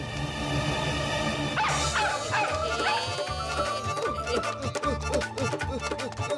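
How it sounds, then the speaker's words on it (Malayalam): A cartoon dog barks and yips over busy, rhythmic background music in a Motu Patlu animated episode. The barks come in repeated short bursts throughout. "ഈ ഡോഗിന്റെ അടുത്ത് ഞങ്ങളെ രക്ഷിക്കൂ"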